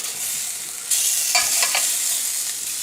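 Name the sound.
potatoes frying, being turned and basted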